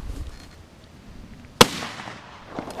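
A single sharp shotgun blast at a public-land duck hunt in Wisconsin cracks out loudly and close, then decays into the open outdoors over light background noise.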